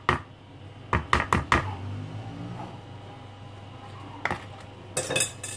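Yogurt cake batter with self-raising flour is stirred in a bowl, producing several sharp utensil clinks and knocks against the dish in short bursts, separated by quieter stirring.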